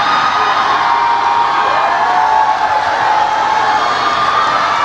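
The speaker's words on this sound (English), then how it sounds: "This is a rowdy crowd today." A rowdy crowd at a political rally in Bridgeport cheers, shouts and whoops loudly and continuously, a dense roar filling the whole stretch without a break.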